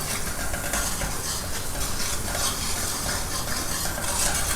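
Ginger garlic paste and onion masala sauté in a pan for Arabian chicken mandhi biryani with Arafas masala, giving a steady close sizzle with scraping stirs woven through, continuous and even without pauses.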